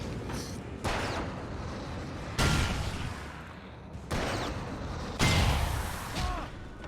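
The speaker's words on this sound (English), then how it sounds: "A lot of explosions." Explosions in the video game Alan Wake come as four heavy booming blasts spaced a second or two apart, each sudden and loud before fading into a rumbling tail.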